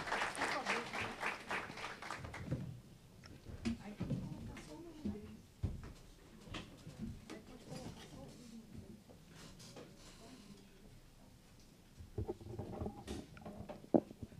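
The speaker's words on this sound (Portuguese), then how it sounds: "Uma salva de palmas para a nossa primeira mesa de abertura." An audience at an international forum on foreign trade and innovation claps in a burst of applause that fades within a few seconds, followed by scattered handling noises and murmuring, with a few more claps near the end.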